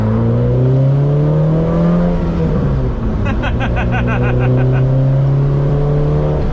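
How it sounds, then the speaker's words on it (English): A gutted Honda Civic Type R-swapped track car engine idles with a low, steady drone, rising briefly in a short rev midway, heard from close inside the car. "this is race car. It's not that loud though."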